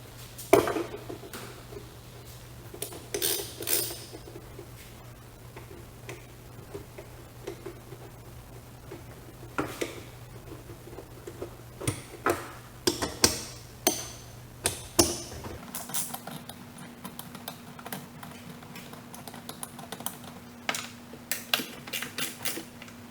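A 10mm socket works loose the bolts holding the dipstick tube on a VW ALH TDI diesel engine, giving scattered light metallic ticks and clicks at close range with no talking.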